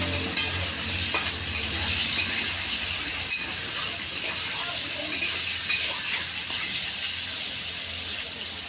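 Pointed gourd (potol) sizzles as it fries with spices in a pan, a steady broadband hiss with occasional stirring scrapes and clinks, close and continuous with no talking.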